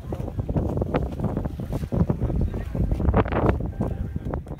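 A speedboat at a ferry port makes rumbling engine and water noise, mixed with gusty wind buffeting the microphone and faint background voices.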